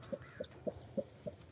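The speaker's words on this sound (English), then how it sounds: "There's a mama chicken." A mother hen clucks inside a farm chicken coop, five soft, evenly spaced clucks repeating at a steady rhythm, close but quiet.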